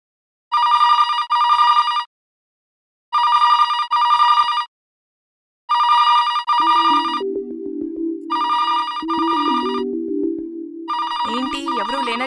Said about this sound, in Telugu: శాంతగారు ఫోన్ ఎత్తండి, మీ టైం అయిపోతుంది.